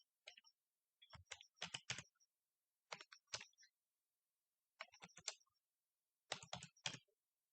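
Word typed on a computer keyboard, coming in several quick bursts of crisp clicking keystrokes separated by short pauses, close and clear against silence.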